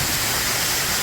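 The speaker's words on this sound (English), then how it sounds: "And there's the fourth waterfall there." A small homestead waterfall pours in a loud, steady hiss of falling water, close and continuous, with no other sounds.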